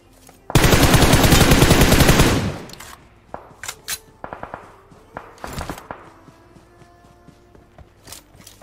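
Rapid sustained automatic gunfire bursts loud and close in a shooter video game, about two seconds long, followed by scattered single shots, footsteps and clatter at lower level.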